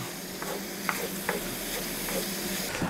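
Garlic sizzles in a hot frying pan while being stirred, with a steady close frying hiss and several short scraping stirs spread through the sound.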